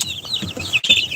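Young chicks from a backyard flock cluck and chirp in a steady, close run of short calls, with no one speaking.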